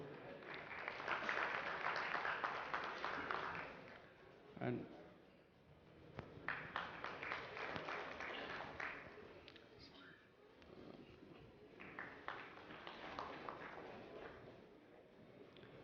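Applause from a summit audience in Karnataka for cooperative banking panel members, a broad wash of clapping that swells in bursts and fades, with a speaker's voice breaking in between rounds.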